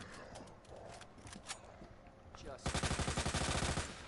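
Rapid burst of gunfire from the survival horror game Resident Evil 2, a loud, evenly spaced string of shots near the end following quieter game ambience, with some talk.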